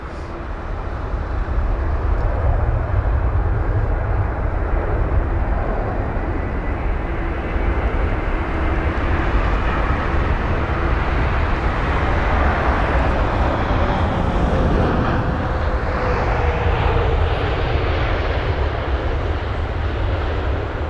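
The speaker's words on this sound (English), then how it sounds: "this Virgin Atlantic jet is the arrival from Mumbai" Virgin Atlantic Boeing 787 landing at London Heathrow, a sustained broad jet roar that swells and holds steadily throughout, with a faint whine sliding through the middle and no talk.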